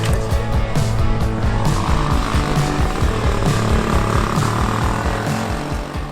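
A 1972 Honda Trail 90 motorcycle rides on dirt, its small engine giving a loud, steady, buzzing drone with fluttering pulses that hold throughout, close by and without speech.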